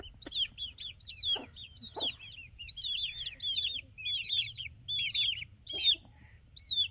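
Small backyard flock of chickens, a little rooster and hens, clucking and chirping in rapid repeated bursts, fairly close, with a few sharper calls and no talk.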